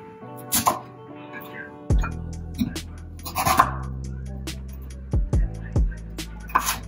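A knife cuts sweet potato on a cutting board, giving several irregular thuds and taps of the blade striking the board, close and fairly loud.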